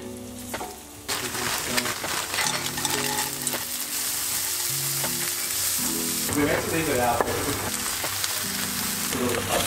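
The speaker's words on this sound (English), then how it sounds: "I just made some fried rice," Fried rice sizzles and fries loudly in a hot pan, with occasional stirring scrapes and clatter over a constant crackling hiss.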